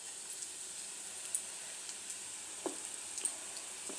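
Onion pakodi batter dropped bit by bit into hot oil, a faint, steady frying hiss with occasional small pops and crackles, alone and fairly quiet.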